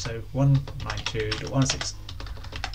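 Rapid clicking keystrokes on a computer keyboard rattle on steadily from up close while someone speaks over them, with a few brief pauses between bursts.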